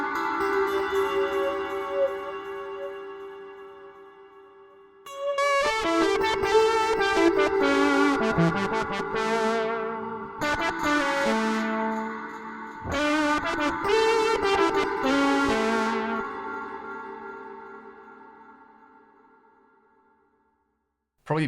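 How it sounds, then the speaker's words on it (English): A Boss SY-1000 guitar synth plays a buzzy super saw tone through a flanger with reverb, sounding bright sustained chords and swept notes that swell and fade over about twenty seconds, with no talking. "let's put a flanger or something on this guy"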